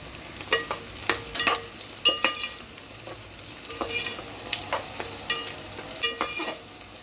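Onion with garam masala frying in a pan for a paneer veg biryani, with a steady sizzle under repeated stirring and scraping strokes that come in short bursts, close and clear.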